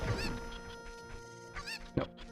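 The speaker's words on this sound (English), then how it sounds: "Come here, stupid chicken." Cucco chickens in the video game Zelda: Ocarina of Time, squawking and clucking in a few sharp honking bursts, with a louder cry near the end over steady game background music.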